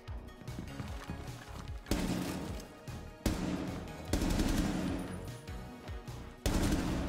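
Rapid bursts of automatic gunfire in a video game, loud and dense, with several volleys starting abruptly one after another and mechanical clatter between them.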